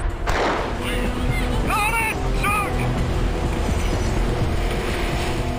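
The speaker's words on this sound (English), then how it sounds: "the massive surf starts to take its toll" Massive surf battering women's rowing boat crews at a surf boat race: a steady, loud roar of breaking waves fills the clip, with brief shouts and a commentator's voice over it.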